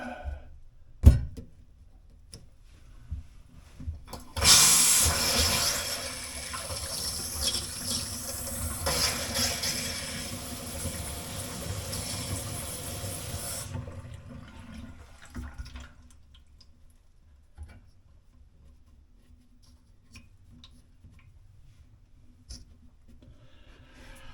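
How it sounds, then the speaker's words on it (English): Water from a bathroom sink faucet rushes steadily for about nine seconds during a check for a leak under the sink, then drops away to quieter dripping and faint handling noises. "Turn the water on up here."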